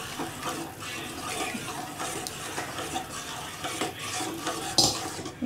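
A spoon steadily stirs thick ragi and pearl millet porridge in a pot over a low flame. Repeated scraping and sloshing strokes run throughout at close range, with a sharper clink near the end and no talking.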